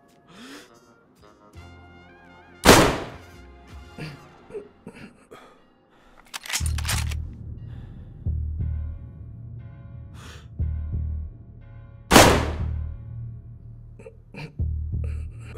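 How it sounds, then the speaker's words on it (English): Sniper rifle shots fired at long range in the video game DayZ, three sharp loud cracks spaced several seconds apart over a low rumbling background, no speech. "I'm shooting up a long way"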